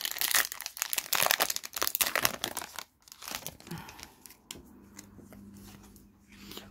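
Pokémon Cosmic Eclipse booster pack torn open and its cards handled, a dense burst of crinkling foil wrapper close up, then quieter card shuffling and sliding over a faint hum.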